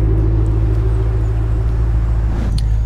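A 2008 Ford Mustang GT500 engine and exhaust idling from the rear, a loud, steady, low mellow rumble throughout.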